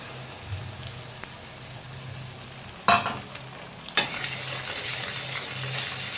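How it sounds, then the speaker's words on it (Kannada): Beaten eggs poured into a pan of frying onion, ginger and garlic, a steady sizzle with a couple of sharp clatters, the hiss growing louder as the eggs hit the oil. "ಇವಾಗ ನಾನು ಹೊಡ್ಕೊಂಡಿರುವಂಥ ಮೊಟ್ಟೆ ಎಲ್ಲನೂ ಕೂಡ ಹಾಕೋತಾ ಇದ್ದೀನಿ."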